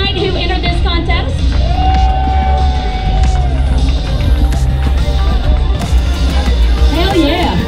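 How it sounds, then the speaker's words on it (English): A bike week crowd at the Broken Spoke cheers, yells and whoops for contest entrants, a loud, dense roar that runs throughout with people talking amid the noise. "One more round of applause, y'all,"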